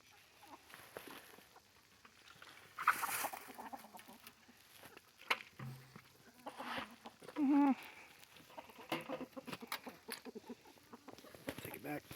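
Backyard chickens clucking and pecking at lettuce scraps, scattered soft clucks and pecking taps close by, with people talking intermittently over the flock.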